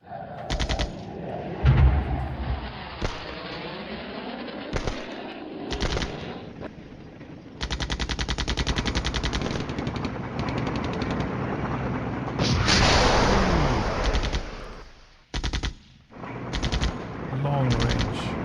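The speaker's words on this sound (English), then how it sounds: "A lot of artillery, airstrikes, tanks incoming." Artillery and machine-gun fire in the Cold War wargame Flashpoint Campaigns, with long rattling bursts, heavy booms and mechanical clatter that come and go over about eighteen seconds, loud and layered, with some speech underneath.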